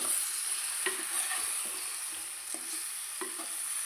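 Fish curry with fish pieces is stirred gently in a pan over a low, steady sizzle, with soft scraping strokes every half second or so, close and clear, with no talking.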